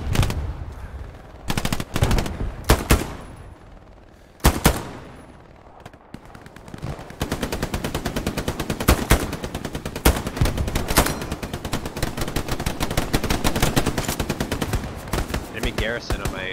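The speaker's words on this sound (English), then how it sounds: "Careful, there's a guy shooting." Sustained machine-gun and rifle fire in the World War II shooter game Hell Let Loose, starting with scattered loud shots and building into dense, continuous bursts of close automatic gunfire.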